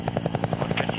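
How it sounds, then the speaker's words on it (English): An old Huey helicopter flying over the Wyoming plains gives a loud, fast, even rotor thump, about a dozen beats a second, heavy and close, with constant engine roar beneath. "Flying over the plains of Wyoming in an old Huey helicopter"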